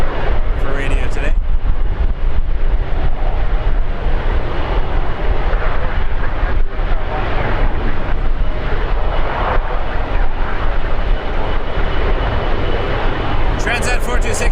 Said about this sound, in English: Transat 4260 Cancun, A330 200.